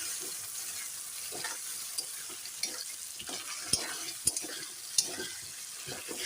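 Spice paste of cumin, ginger, garlic and onion sizzles softly in a pan while being stirred for a chicken dish, with quiet scraping and a few sharp clinks of the spoon.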